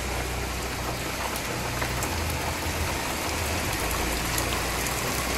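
Heavy rain pours down steadily, a dense, even hiss of drops hitting surfaces nearby that keeps up without a break and has no voices over it.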